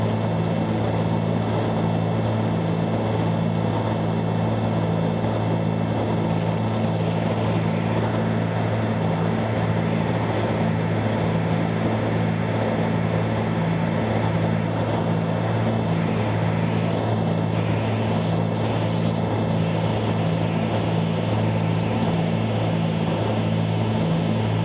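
A Cessna 310 twin-engine plane drones steadily in flight, its propellers giving a constant loud hum with pulsing low tones that never lets up.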